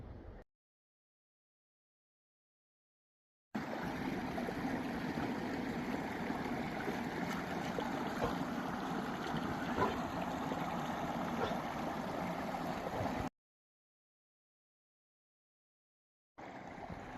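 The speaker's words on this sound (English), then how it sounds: "there is lots of running water, at least in the spring here." Steady broadband rush of running water from a spring stream beside a hiking trail near Pyramid Lake, Washington, continuous and fairly close for about ten seconds between silent gaps, with no talking.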